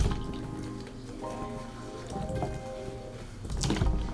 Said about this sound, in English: let's dip that wig back in there